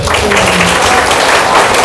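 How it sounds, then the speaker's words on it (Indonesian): A school audience at SMP Negeri 5 Denpasar in Bali claps for the principal at a talk show event, dense and loud applause filling the whole moment. "Tepuk tangan sekali lagi untuk kepala sekolah"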